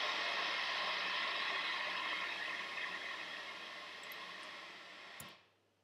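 Steady hissing white noise from a Pure Data noise generator fills the air at a constant level, then cuts off abruptly near the end.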